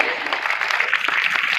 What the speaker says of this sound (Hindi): आप लोग ताली जरूर बजाएंगे